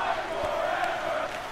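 A wrestling arena crowd cheers and roars steadily throughout a close, exciting match, a broad sustained wash of massed voices at moderate loudness.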